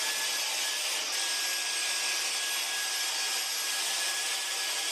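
A Dust Daddy vacuum attachment sucks up dust around a silk plant, giving a steady, loud broadband hiss and whoosh of airflow that runs unbroken from start to finish, with no talking.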